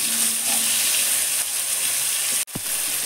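Steady sizzling of salted tomatoes frying in a hot pan, loud and close, with a brief clatter near the end.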